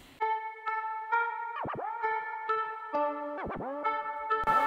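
Melody sample processed with a Shaperbox scratch preset, bright tonal notes repeatedly interrupted by quick downward-swooping scratch dips, rhythmic and clean with no voices.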